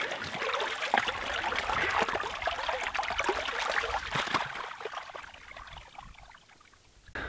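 Water gushing and trickling out of a cracked buried irrigation fitting in a field, a steady close splashing flow that fades slightly toward the end.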